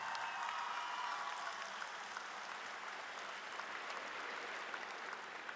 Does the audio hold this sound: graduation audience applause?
yes